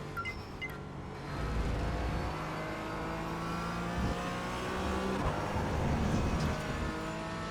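Racing car engine in a racing video game roars steadily, then the pitch drops and rises through downshifts, a continuous close drone with no voices.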